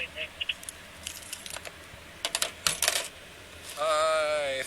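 A set of keys for a Scion car jangling and clinking in bursts, with short metallic rattles and a louder shake near the end, close by with no talk.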